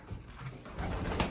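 Domestic racing pigeons in a loft giving soft, low coos amid quiet rustling and faint background noise, close but gentle, in a brief stretch with no speech.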